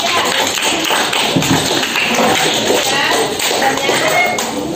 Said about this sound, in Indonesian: kasih aplaus dulu untuk kelompok 3